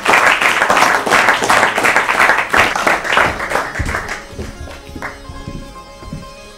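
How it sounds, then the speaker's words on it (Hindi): An audience applauds a contestant on an Urdu-language quiz programme, a dense burst of clapping that gradually thins and fades away. "ताली बजाइए इनके लिए एक बार फिर।"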